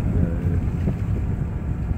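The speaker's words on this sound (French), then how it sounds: "Il a son moteur qui est agréable, qui ne fait pas beaucoup de bruit." An Oceanis 31 sailboat motors out of a harbour. The engine gives a low, steady and fairly quiet rumble, mixed with wind buffeting the microphone.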